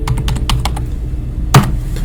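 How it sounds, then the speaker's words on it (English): Keys clack on a computer keyboard in a quick, uneven run of about seven taps, close and clear, followed by a single louder thump after a short pause, with no talking. "I'm typing it in."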